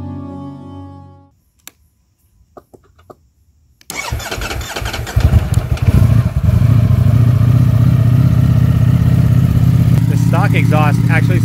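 A Ducati Streetfighter V4S motorcycle starts with a brief starter whir, then catches with a loud bark and settles into a steady, rumbling idle at close range.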